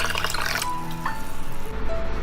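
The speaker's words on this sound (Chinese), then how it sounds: "再来加入适量清水" Clear water pours into a stew pot, a close, continuous splashing gurgle that shifts in tone as the vessel fills, ending with a brief steady trickle.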